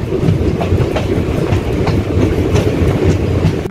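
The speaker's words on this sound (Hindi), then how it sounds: "सुबह के 2 बजे हमारी ट्रेन पहुँच गई थी रामपुर में।" A passenger train arrives at Rampur station at 2 a.m., its steady rumble and rhythmic clickety-clack of wheels on rail loud and close throughout with no talk.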